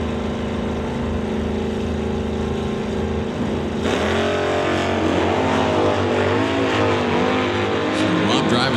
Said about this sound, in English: So Rob driving the 67 Plymouth.